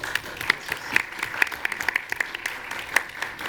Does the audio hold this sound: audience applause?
yes